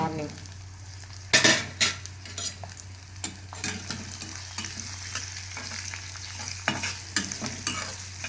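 Cumin seeds and curry leaves crackle in hot oil for egg rice, giving a bright continuous sizzle punctuated by several sharp stirring clatters and scrapes of a utensil against the pan.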